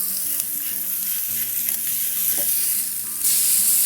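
Smashburger patties sizzle loudly on a hot griddle right after flipping, a steady, close frying hiss with small crackles and a few scrapes of a spatula.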